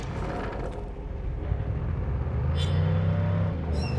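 A car engine in the video game Dying Light: The Beast rumbles steadily and rises slightly as the vehicle pulls away, a continuous low drone with no talking.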